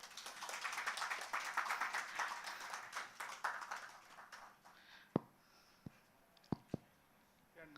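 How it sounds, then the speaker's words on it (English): A conference audience claps in a dense burst for about four seconds, then the applause thins into a few isolated claps against a quiet room. "Please give a round of applause."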